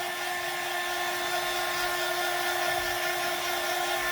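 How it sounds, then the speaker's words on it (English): A steady, continuous hair dryer whir aimed at a battery-operated candle, constant motor tone, loud and close, running unbroken throughout with no talking. "And I keep hitting the other one with the dryer."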